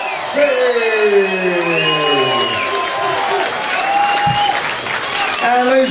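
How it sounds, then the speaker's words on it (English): Crowd at a British cage fighting championship applauding and cheering after a TKO result, with steady loud clapping, shouts and whoops throughout, while an announcer's amplified voice rings out over the arena. "a round of applause for your runner-up, Jake the Saint Cross."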